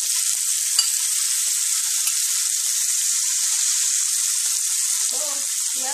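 Vegetables sizzling in a hot pot for ackee and saltfish fried rice over low heat, a steady bright hiss of frying throughout with brief clinks and a soft voice near the end.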